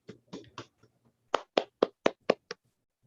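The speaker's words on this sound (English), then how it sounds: "I request you all to give a big round of applause to our Master of Ceremonies" Sharp, isolated hand claps ring out at a Toastmasters installation ceremony honouring the master of ceremonies: three softer claps, a short pause, then six crisp, evenly spaced claps. The room is otherwise quiet.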